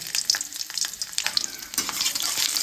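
Garlic and cumin seeds fry in hot oil for homestyle mixed rice, a close, busy crackling sizzle with sharp pops and stirring scrapes throughout the short stretch, no speech.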